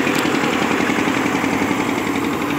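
A 1999 Eicher 242 tractor engine running steadily, a loud close diesel chugging with a fast even knocking rhythm and no voices over it.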